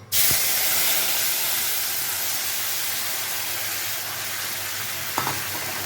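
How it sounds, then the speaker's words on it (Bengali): Tomato and chilli paste dropped into hot oil with cumin and asafoetida, bursting into a loud, dense sizzle that holds steady and slowly fades, with a faint clink of a utensil near the end. "এবার আমি দিয়ে দেব টমেটো লঙ্কার পেস্টটা"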